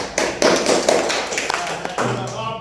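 A class of sixth-grade primary school pupils claps in an Islamic school classroom, a burst of close, uneven hand taps and thumps that thins out within a couple of seconds.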